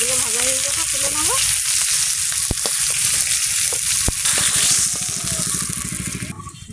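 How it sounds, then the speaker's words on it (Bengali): Silver carp fry in hot oil with a loud, continuous, close sizzle. A voice sounds briefly at the start, then a couple of sharp knocks and light stirring scrapes come through before the frying softens at the end. "মাছগুলো ভাজা হয়ে গেছে,"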